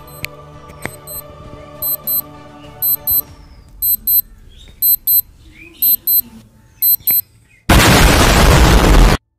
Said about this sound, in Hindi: इसका अलार्म साउंड ऐसे देखने में मिल जाता है फिलहाल, सुना देता हूँ मैं साउंड।